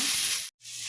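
Tomatoes and green chillies sautéing in a hot pan give a bright hissing sizzle that breaks off abruptly and then returns softer with a low hum.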